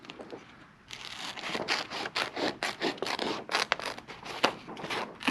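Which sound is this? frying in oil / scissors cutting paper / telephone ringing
scissors cutting paper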